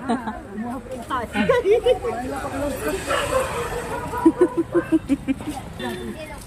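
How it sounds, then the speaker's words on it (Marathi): A dog barks at a family get-together, first a few yips under chatter and then a rapid run of sharp, close barks, with people talking loudly throughout. "अगं कुत्रा आलाय मग."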